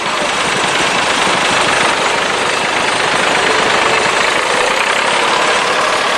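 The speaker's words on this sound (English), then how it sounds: "This is a 3-cylinder diesel, and just because it's only got 3 cylinders doesn't make it any less." A 1964 Ferguson 65 tractor with a three-cylinder diesel engine runs at a rally, a loud, close, steady chugging rumble with a rough knocking texture that holds constant the whole time, with no voices.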